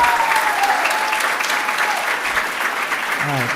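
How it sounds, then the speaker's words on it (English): Audience applause for winners at an end-of-year gathering, a dense, steady clapping that carries through the whole stretch, with a voice briefly audible at the start. "give our winners a round of applause."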